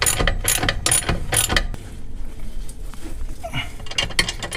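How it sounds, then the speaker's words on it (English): A ratchet wrench clicks rapidly as it tightens a bolt on a differential brace of a Nissan 350Z, loud and close, in short bursts separated by brief pauses. "We just tighten it up."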